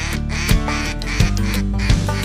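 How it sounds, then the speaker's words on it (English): Ducks quack loudly and close during a waterfowl hunt, a run of harsh, repeated calls with a few sharper bursts spaced roughly evenly over a steady background. "Here come the ducks,"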